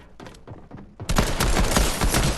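Pistol gunfire in the Fortnite video game: a few quieter shots at first, then a dense, loud burst of rapid overlapping shots filling the rest of the moment.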